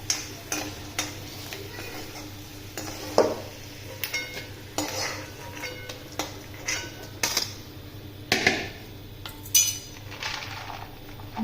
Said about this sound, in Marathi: छान तळा त्याला, म्हणजे असं छान खुसखुशीत लागतं.